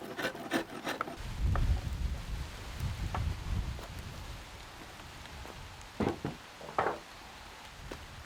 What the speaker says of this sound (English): The rain really came now, and it looks like it's going to stay a while.